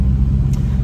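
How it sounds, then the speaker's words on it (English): Car rolling through heavy London traffic, a steady low engine rumble and road drone heard from close by, brief and continuous. "we're just rolling through London traffic, and it's, I say it's surprisingly heavy"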